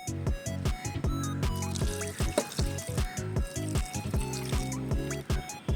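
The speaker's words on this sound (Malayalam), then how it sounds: "വെള്ളം ഒഴിച്ച് വേവിക്കാം." Water is poured into a pot of mashed jackfruit for cooking, with a bubbling, gurgling fill that rises and falls in quick uneven pulses, close and moderately loud.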